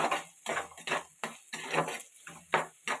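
Small and large onions with a pinch of salt are stirred and sautéed in a pot for a meat curry, giving a steady run of scraping, clattering spoon strokes at a quick, even rhythm, close and fairly clear with no talk.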